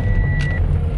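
A Toyota Yaris with newly replaced rear brake shoes braking hard to a quick stop: a steady low road rumble close by, with a faint brief squeal laid over it partway through.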